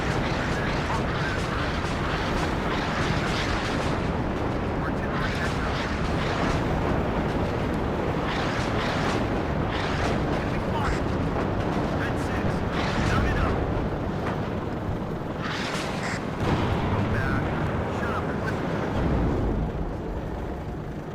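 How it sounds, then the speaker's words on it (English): Artillery fire and explosions in the WARNO video game, a dense continuous rumble of booms and blasts lasting the whole stretch, with someone talking over it. "we've got the artillery coming in"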